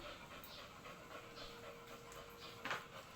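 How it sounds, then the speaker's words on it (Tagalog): A dog pants rapidly and steadily after a walk, faint and close, with a short whimper-like sound near the end and no speech. "Hinihingal ka pa eh."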